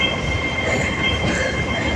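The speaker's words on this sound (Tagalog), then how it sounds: "Ito yung sakyan ko, tren." A Hong Kong Disneyland Resort train running steadily, with a continuous rumble and rail noise, a high squealing tone from the wheels held throughout, close and fairly loud with no talking.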